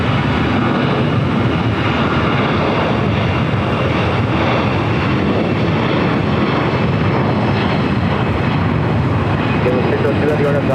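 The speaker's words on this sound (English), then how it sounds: "777-300ER is our next heavy arrival on the north side" A Boeing 777-300ER heavy jet arrives at LAX with a loud, steady roar of jet engines that lasts throughout. Airport announcements and talk run over it.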